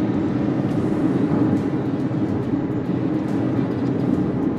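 A Ford electric vehicle accelerates gently under light throttle, giving a steady, continuous low hum and road rumble that holds even throughout, with no talking.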